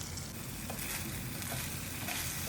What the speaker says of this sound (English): on medium flame, we will saute this well until the raw taste of tomato puree goes away